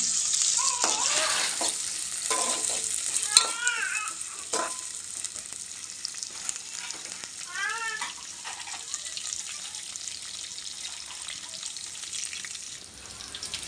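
Chicken curry base of onions and green chilies sizzles in a pan while being stirred, a steady frying hiss with occasional scrapes and clinks of the spoon, plus a few faint squeaky background sounds.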